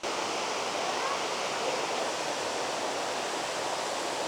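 A three-tiered waterfall in Meghalaya roars as a constant, dense wash of falling water, loud and unbroken with no variation in rhythm and no voices.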